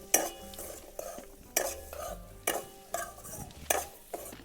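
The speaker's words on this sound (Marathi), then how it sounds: "भाजी हलवून घेऊया." A spoon stirring wild vegetable curry in a pan, five rhythmic scraping strokes about one second apart over a faint low sizzle, quiet and close, no voices.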